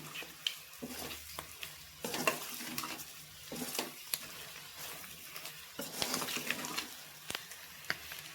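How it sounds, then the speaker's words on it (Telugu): Boti fry sizzles in a pan as it is stirred after coconut powder is added, a continuous soft frying hiss with repeated scraping and clicking of a spoon against the metal. "ఇప్పుడు 1 టీ స్పూను కొబ్బరి పొడి వేసినాక కూడా మంచిగా కలుపుకోండి"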